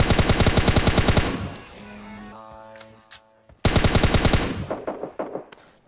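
Rapid bursts of automatic gunfire from players fighting inside a building in PUBG Mobile Lite, loud volleys at the start and end with quieter scattered shots and tones between, no talking.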